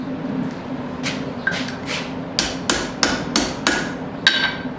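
Hammer strikes ringing on an anvil while straightening a forged horseshoe, a few scattered blows followed by a quicker run of sharp metallic hits over a low background hum.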